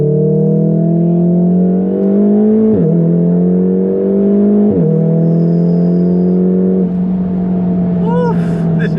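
A VW Golf R Stage 2 with DSG gearbox accelerates hard, its engine note climbing loudly and steadily, dropping sharply at each of two quick gear changes before rising again, with a faint rising whine late on.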